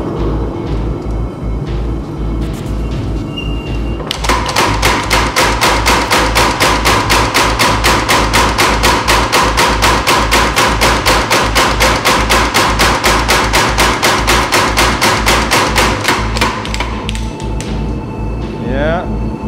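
A hammer forges the bevels of a bunka knife blade in a steady, rapid run of loud, close metallic strikes. A low background hum is present before the blows begin and after they stop.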